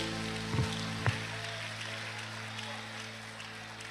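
A church congregation applauds in a dense, steady patter like rain, with a low hum beneath it and a couple of faint knocks early on.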